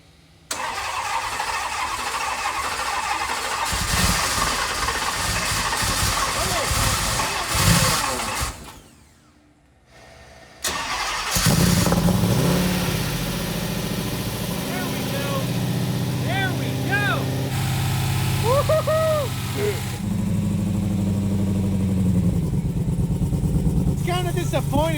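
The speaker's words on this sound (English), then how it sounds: "hit this start button and actually expect the engine to start for the first time" A custom Dodge Demon truck with a roughly 1,005-horsepower engine cranks and fires up after a brief near-silent gap, then settles into a steady, fairly quiet muffled idle with people talking over it.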